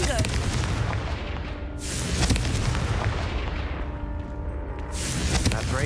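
A fiery blast spell explosion in the video game Hogwarts Legacy, a dense, roaring burst with rumbling, crackling debris that swells and recedes over several seconds, loud and close, with a voice briefly heard.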